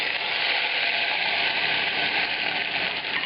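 Whole spices frying in very hot oil in a pan for an Indian dhaba-style egg curry, a steady loud hissing sizzle that holds evenly throughout with no voices.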